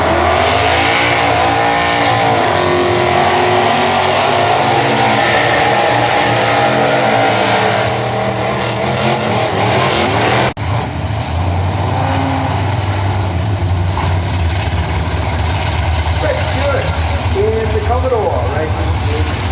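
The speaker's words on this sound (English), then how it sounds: "Commodore racing in Super Street." Holden Commodore drag race cars at Perth Motorplex in 2003, engines roaring loudly as they accelerate hard down the strip, with an announcer's amplified voice talking over the din.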